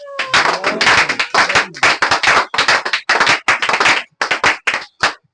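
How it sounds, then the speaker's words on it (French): A church congregation claps and applauds the Lord in a long run of loud, dense bursts, the clapping swelling and pausing in short waves without talk over it. "Est-ce qu'on peut acclamer le Seigneur?"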